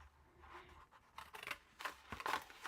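Scissors cutting up material for making hot chocolate bomb containers, a few close, crisp snips in quick succession with short gaps, no talking.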